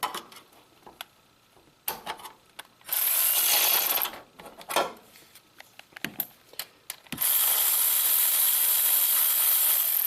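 A ratchet wrench works on bolts during a Subaru engine teardown, close up, with clicking bursts and longer loud rasping runs between short pauses.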